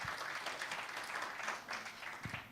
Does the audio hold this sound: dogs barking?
no